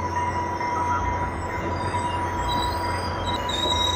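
A train arriving at a station at night rumbles steadily nearby with high metallic wheel squeals ringing over a constant low roar, no voices.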